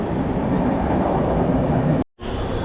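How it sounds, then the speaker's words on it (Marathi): A Vasai local train at a suburban station rumbles steadily and loudly, with a continuous low roar of wheels and carriages, briefly cut by a short gap before the rumble resumes. "चला तर आम्ही आता वसई गाडी पकडतोय"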